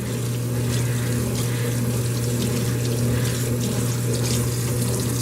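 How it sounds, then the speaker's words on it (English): Tap water runs at a low, steady flow into a bathroom sink while makeup brushes are washed, a constant even rush with a low hum and no breaks or talking. "I'm going to have the water on kind of low the whole time"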